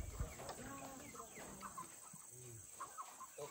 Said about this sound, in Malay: Tengok dia punya ayam.